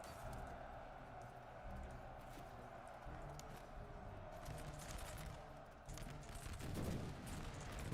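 Grenadiers firing musket volleys in a Master of Command battle set in the Holy Roman Empire, ragged crackling bursts of gunfire layered over a continuous battlefield din, growing denser toward the end.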